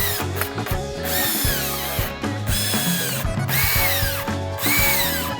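A power tool drives magnesium alloy stretch bolts into an eBike motor case, whirring steadily in short, close, loud runs with brief pauses between the bolts.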